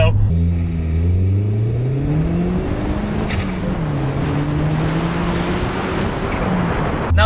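A modified 264 BHP Seat Ibiza Cupra with a Stage 2 remap and full Milltek exhaust accelerates on the road, its engine note climbing steadily through gears, loud and close, with someone talking over it.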